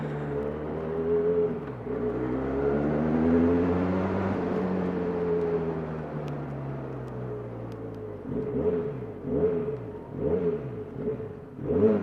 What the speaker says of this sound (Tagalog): Yung exhaust sound niya, ang ganda.